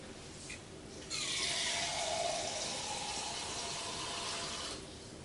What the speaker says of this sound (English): Add half a can of water.